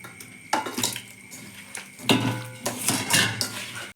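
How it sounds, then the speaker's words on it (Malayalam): Chicken is mixed with salt, vinegar and cornflour in a bowl, giving bursts of clattering and scraping against the dish, with short pauses between the rough, close stirring strokes. "ഇനി ഇതിലേക്ക് ഉപ്പിട്ട് ചിക്കൻ ഇട്ട് നല്ല മിക്സ് ചെയ്യുക."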